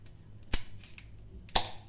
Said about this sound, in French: Je vais le couper de côté à l'aide de mes ciseaux.